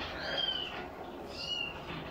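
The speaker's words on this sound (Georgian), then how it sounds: "რატო კნავის" A cat gives two drawn-out meows close by, one after the other, over a faint steady background hiss.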